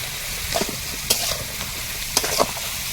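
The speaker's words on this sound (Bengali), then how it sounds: "নেড়ে চেড়ে একটু ভেজে নেবো" Pumpkin, sweet potato, stalks, eggplant and tomato with turmeric and salt being stirred and fried in a pan, a steady close sizzle with scraping utensil strokes at intervals, no voices.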